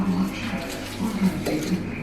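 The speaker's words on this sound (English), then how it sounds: "now I'm going to mix it all together" A spoon scrapes and clinks against a bowl as Greek Easter bread ingredients with orange rind are stirred together, in a close, steady, soft rhythm.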